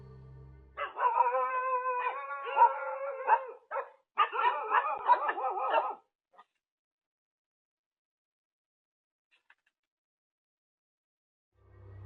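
A dog barks and howls insistently for about five seconds in loud, close bursts with a short gap between, then falls silent for the rest of the clip.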